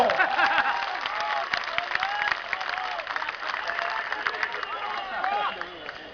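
A large crowd claps and cheers at a 2012 Gujarat election rally in Ahmedabad, with dense, sustained applause filling the whole stretch and a speaker's voice coming through over the noise.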